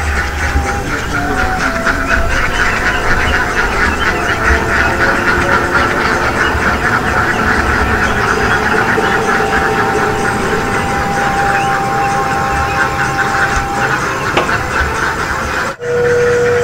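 Passenger train bound for Surabaya Gubeng from Bandung passes close by a railway crossing at Sukorejo, a loud steady roar with rhythmic clickety-clack of wagons over the rails, lasting throughout before cutting off abruptly near the end.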